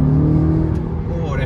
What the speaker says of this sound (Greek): Αλλά όταν πατάς τον γκάζι.